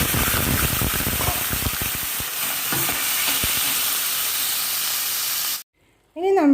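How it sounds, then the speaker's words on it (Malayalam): Prawns sizzle hard in hot coconut oil and ghee with a loud, steady frying hiss and scattered stirring clatter. Near the end the sizzle stops abruptly and a voice is heard briefly. "ഇനി നമ്മുടെ ചെമ്മീൻ നമുക്ക് ഇതിലേക്ക് ഇട്ട് കൊടുക്കാം."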